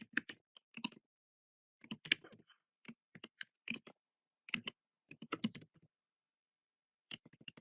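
Keys clatter on a computer keyboard as a JavaScript script is typed, in short bursts of quick clicking separated by brief pauses, close and fairly quiet with no talking.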